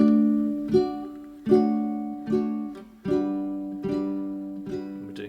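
A ukulele is strummed in single chord hits about every three-quarters of a second, practicing a song's chord changes, each ringing out and fading before the next change, close and clear.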